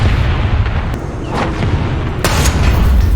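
A loud tank cannon shot and explosion in War Thunder, a heavy rumbling boom that fills the whole stretch with sharp cracks rising out of the continuous low roar, no voices present.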